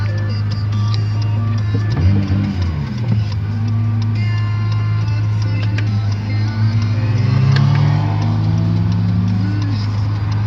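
An Acura NSX switched into Sport Plus mode, its engine idling with a steady low drone, rising briefly in a couple of short revs, close by with no talk.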